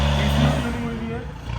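A stage 2 tuned Skoda fitted with an FI exhaust and downpipe revs in a brief, loud, close burst of throaty engine roar, with someone talking over it.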